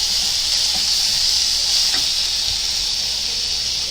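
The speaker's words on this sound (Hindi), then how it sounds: "अभी अदरक लहसुन डालेंगे। अच्छे से भुनेंगे इसको, कच्चापन जाने तक भुनेंगे।" Ginger and garlic fry in a pan with a loud, steady sizzle and hiss, close and continuous with no voices.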